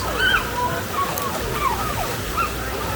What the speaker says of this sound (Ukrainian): Ну і зараз подивіться, що тут за водоспад.